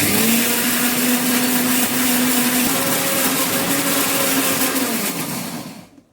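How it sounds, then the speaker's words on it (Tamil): Soaked urad dal being ground in a mixer grinder, a loud continuous motor whine with shifting pitch as the batter churns, running steadily for several seconds before cutting off at the end. "அதுக்காக இப்போ உளுந்தையும் அரைச்சிடுவோம்"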